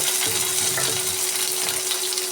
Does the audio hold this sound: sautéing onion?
yes